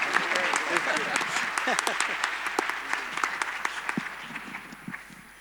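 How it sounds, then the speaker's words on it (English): Audience applause in a large conference hall at the closing plenary of a global digital infrastructure summit, a steady patter of many hands clapping at moderate distance with a few sharper claps standing out. "A round of applause for him as he jogs for the plane."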